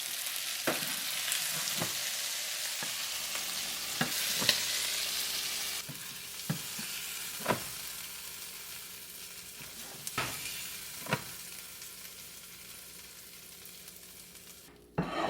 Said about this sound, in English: this is stir-fry squid with Hoisin sauce